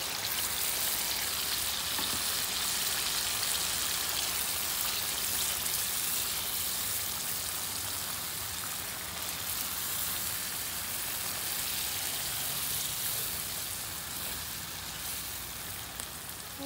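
Shrimp frying in a pan of cooked-down spice masala for a shrimp curry, giving a steady, dense sizzle that holds at an even, fairly loud level throughout with no talking.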